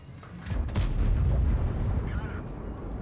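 Tank shell fire and impact in a World of Tanks–style battle game, likely from a BatChat or K91, a loud broad boom rising around half a second in and rumbling on through the rest, not an especially heavy blast.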